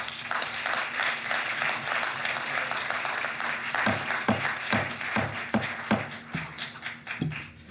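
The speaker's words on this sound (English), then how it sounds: "We have to hold our clapping, please." Audience applause at a city council meeting, a steady wash of many hands clapping that thins into scattered individual claps, with a voice speaking over it.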